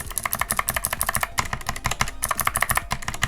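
Rapid, steady keypresses on a Gamakay MK61 mechanical keyboard fitted with unlubricated Gateron Blue switches, each stroke a sharp, bright click, loud and close, in a fast continuous typing rhythm.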